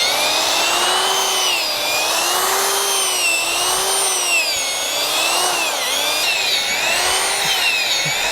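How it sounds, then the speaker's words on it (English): A power drill auger bores into soil for a moisture probe installation, its motor whining steadily with wavering pitch as load changes, close and continuous without talk. "the drill just will basically go deeper and deeper until it gets stuck"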